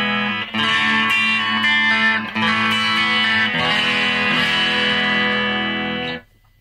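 Electric guitar played through a Hughes & Kettner Spirit Nano amp with reverb, sustained ringing chords for about six seconds, loud and close, ending in a quick fade, with no talk.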